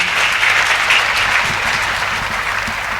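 Audience applause for a poet at a Hindi poetry stage event: dense, steady clapping from a sizeable crowd, loud and continuous throughout, with no voices over it.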